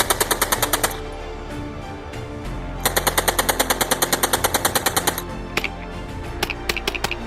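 An Uzi submachine gun fires in two long, rapid, evenly spaced bursts, then a few scattered single shots, loud and close with no voices.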